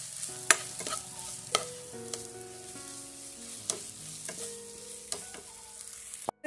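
A spoon stirs chicken with Kashmiri chilli powder and chicken masala in a pan, giving sharp scraping clinks at irregular intervals over a soft, steady sizzle, with quiet tonal background music and no speech.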